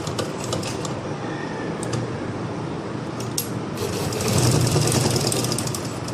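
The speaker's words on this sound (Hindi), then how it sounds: "ये स्लो स्लो मैं सिलाई कर रहा हूँ ताकि आपको अच्छी तरह समझ लग जाए।" A stitching machine with a top thread fault sewing slowly, giving a steady mechanical whirr and chatter of needle strokes that grows slightly louder and busier toward the end, with occasional light clicks.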